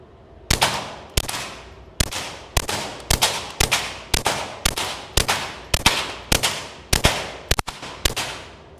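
A Glock 44 pistol with a Huxwrx 22 Ti suppressor firing at a range, about fifteen sharp, muffled shots in a steady, evenly spaced string with brief ringing decay after each, close and loud.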